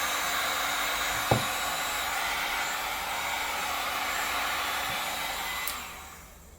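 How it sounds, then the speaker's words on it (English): A heat gun blows steadily to melt old TPU filament off a guitar during a string change, a constant airy rush with a couple of small knocks, then the blowing tails off at the end. "I'm going to use my heat gun and you'll see how fast it works to make it go away or melt it."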